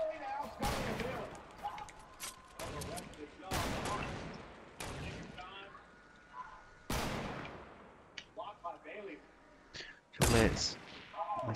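Sniper rifle shots in a battle royale video game, several loud sharp reports spaced a few seconds apart, each with a ringing tail, mixed with game effects and some talk.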